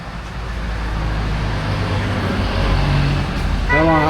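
Roadside traffic beside a rural road in Batangas, a steady rumble of passing cars and trucks running throughout, with a voice briefly heard near the end.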